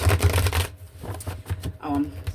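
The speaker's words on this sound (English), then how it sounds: "Shuffling the wrong deck." A deck of tarot cards being shuffled up close, with quick riffling bursts at first, then scattered softer card slaps and taps; a voice speaks faintly in the background.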